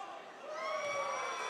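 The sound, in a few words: basketball crowd cheering in the gym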